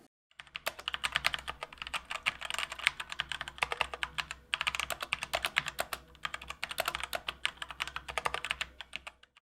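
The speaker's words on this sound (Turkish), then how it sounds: "Gelin tuşların seslerine birlikte bakalım." Fast typing on a Cooler Master CK550 v2 mechanical gaming keyboard with TTC switches, crisp rapid clacks in bursts with brief pauses, close and alone.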